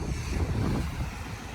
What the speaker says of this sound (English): Dark clouds, a little bit windy, raining on and off.